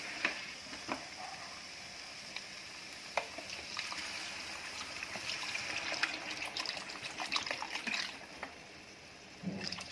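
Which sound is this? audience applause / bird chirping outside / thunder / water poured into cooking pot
water poured into cooking pot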